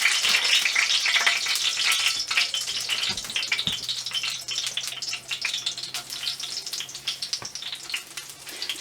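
Homemade chicken nuggets fry in a hot pan with a dense, crackling sizzle, close and steady, sprinkled with sharp pops and a few faint rattles of the pan.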